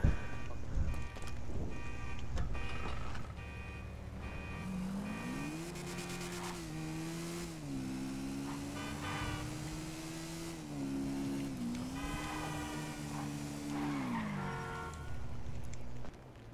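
A motorcycle engine revs steadily and loud in GTA Online during parkour at the Kortz Center, its pitch climbing, holding, then dipping over several seconds, with game sounds and clatter underneath.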